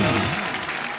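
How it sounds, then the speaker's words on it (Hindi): A television studio audience cheers the champions with loud, dense applause, a brief unbroken roar of clapping filling the room. "एक बार हमारे सारे चैंपियंस के लिए जोरदार तालियां।"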